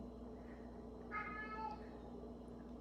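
A male cat gives a single soft, drawn-out meow in a quiet indoor room over a low steady hum, faint and fairly distant.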